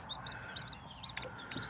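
A game hen clucking softly in short repeated calls at a farm, faint and fairly steady against quiet outdoor background noise.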